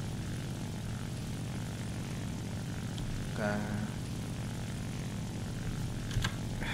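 Steady propeller engine drone from a J7W1 fighter plane in the War Thunder combat game, droning continuously at an even level with a few faint brief clicks over it.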